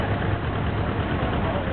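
A tractor engine idles steadily at close range, a dense continuous low rumble with no change in pace throughout.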